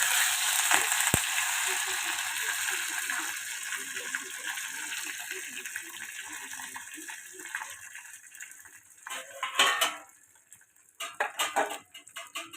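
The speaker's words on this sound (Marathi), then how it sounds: "हे पहा मोहरी तळतळ तळतळ होऊ राहिली त्याच्यात टाकू आपला हा कढीपत्ता" Mustard seeds and curry leaves crackle in hot oil with a continuous hiss, then a few louder bursts of spattering and pan clatter near the end.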